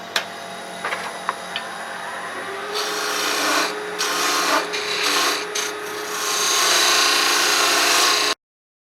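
A freshly sharpened parting tool cuts a ferrule on a wood lathe, giving a close scraping, rasping hiss that swells and dips over several passes before stopping abruptly.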